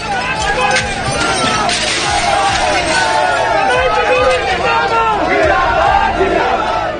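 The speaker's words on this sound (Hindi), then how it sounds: "ये गुंडे बेशर्मी से दिल्ली जल बोर्ड के दफ्तर को तोड़ते हुए रमेश बिधूड़ी जिंदाबाद के नारे लगा रहे हैं" A large mob chants slogans in loud unison while vandalising a Delhi Jal Board office, with voices shouting over each other and a continuous roar of crowd noise.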